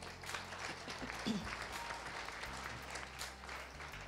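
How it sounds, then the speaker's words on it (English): An audience claps during an award speech at a media recognition ceremony, a brief burst of applause with some voices and room noise mixed in. "please help me clap for these people"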